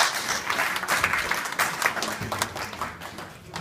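An audience at a Lok Sabha election prediction talk for Pt Ajai Bhambi at a learning academy breaks into moderate applause, a brief burst of dense clapping from a seated crowd heard at some distance.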